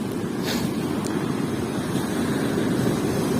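Storm waves break on the sea shore at Erdemli, Turkey, on an overcast evening. They make a steady, dense roar of surf with wind noise and no voices.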